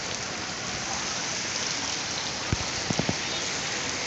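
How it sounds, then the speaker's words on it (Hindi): Dense, steady heavy downpour roaring continuously in Faisalabad, Pakistan, with a few sharp drips or knocks close by near the end. "देखें कितनी तेज बारिश हो रही है।"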